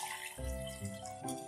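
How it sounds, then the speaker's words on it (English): Water from a glass pours onto Tang powder and sugar in a container for homemade popsicles, a steady close splash and trickle lasting about a second with no talking. "Now add 1 glass of water."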